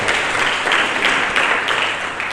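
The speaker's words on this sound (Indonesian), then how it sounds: "Berikan tepuk tangan yang meriah bagi Yesus." A church congregation at a Sunday service applauds in a loud, steady burst of many hands clapping together that fills the room and lasts the whole moment without a break.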